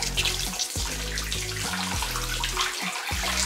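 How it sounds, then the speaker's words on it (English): Strong water pressure from a faucet at a farmhouse in Metro Tagaytay gives a steady, loud rush of flowing water. The hiss is continuous and close, with no talking over it. "tingnan natin yung pressure ng tubig kasi it's a Metro Tagaytay"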